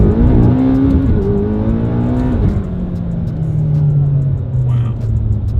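A family car's engine revs hard through a fast joyride drive, pitch climbing and shifting through gears with a loud, close rumble throughout, with voices mixed in under the engine.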